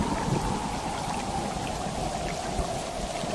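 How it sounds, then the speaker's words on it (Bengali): A heavy evening thunderstorm with dense, steady rain hissing and pattering across surfaces, a continuous loud wash with low rumbling beneath and no voices. "সেদিন সন্ধ্যা থেকে শুরু হলো খুব ঝড় বৃষ্টি।"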